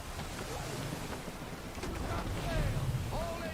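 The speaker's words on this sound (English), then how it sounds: "Gusty winds can be difficult to manage." Gusty wind blows while a ship sails in an Assassin's Creed video game, a steady rushing roar with sea wash beneath it, and faint calls of seabirds or creaks drifting over the top.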